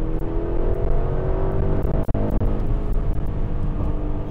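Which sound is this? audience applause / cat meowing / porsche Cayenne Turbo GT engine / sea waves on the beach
porsche Cayenne Turbo GT engine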